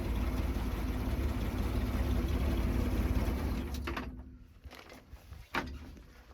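A 1969 Chevrolet C30 truck idles with its power take-off spinning, a dense mechanical clatter and rumble that runs steadily for about four seconds, then cuts out, leaving a few faint knocks and clicks.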